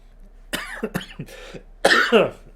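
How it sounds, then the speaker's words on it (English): A person coughs several times in quick bursts, close by, ending with a louder, rougher hack. "coughing."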